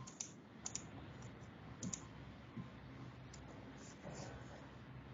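Faint, sparse clicks from a computer mouse during an online database class, a few isolated taps over a quiet background hiss.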